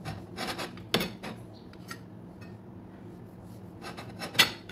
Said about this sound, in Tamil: இதோட ஓரங்களை எல்லாம் நம்ம கட் பண்ணி எடுத்துக்கலாம்